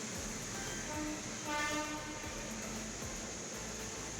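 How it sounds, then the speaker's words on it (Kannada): An electric locomotive hauling the daily Belagavi to Mysuru passenger train rumbles past steadily at night, its wheels clacking rhythmically on the rails, with a brief horn tone sounding partway through. "ಎಲೆಕ್ಟ್ರಿಕಲ್ ಲೋಕೋಮೋಟಿವ್ ಐತೆ ನೋಡ್ರಿ."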